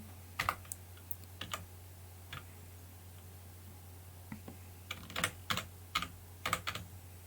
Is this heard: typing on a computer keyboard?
yes